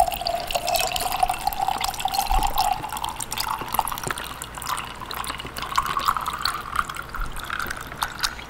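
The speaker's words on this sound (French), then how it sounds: "Puis pour boire, j'ai du jus de pomme que je vais mettre dedans" Apple juice poured into a glass in a steady, close stream whose pitch rises gradually as the glass fills, with faint drips near the end.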